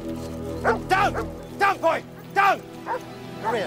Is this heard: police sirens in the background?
no